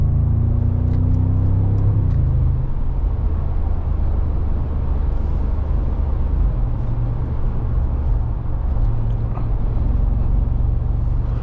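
A Mercedes G63 AMG facelift V8 in Sport Plus mode drives on an unrestricted Autobahn stretch, a steady, loud low engine drone with rumbling road noise and a brief gear-shift change in pitch near the start.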